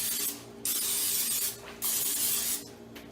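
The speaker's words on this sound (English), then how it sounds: "I'm now going to go ahead and spray the chicken with a little cooking spray." Cooking spray misted onto raw chicken pieces in an air fryer basket, three separate hissing bursts with short pauses between them, close and clear with no talking.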